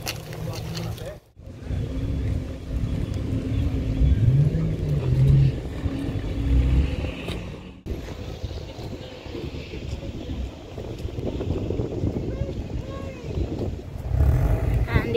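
Subaru Impreza rally car engine at a racing venue, a steady low rumble with wind buffeting the microphone, dropping out briefly twice before building as the car pulls away, with voices talking over it.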